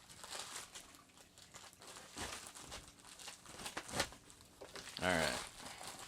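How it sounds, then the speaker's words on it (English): A taped padded mailer is torn and crinkled open up close, giving bursts of crumpling and ripping with a louder tear near the end, while a voice speaks briefly. "Breaking the package open, we got another padded bag."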